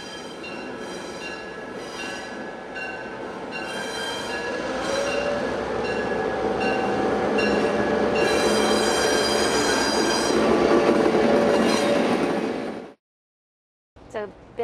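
A train on the Hiwassee River Railroad rumbles steadily along the rails with rhythmic clatter and metallic squeal, growing slightly louder before cutting off abruptly near the end.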